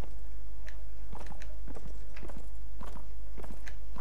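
Horse hooves clip-clopping while riding through a town in Mount and Blade Warband, an uneven series of close, crisp hoof strikes over a steady low hum.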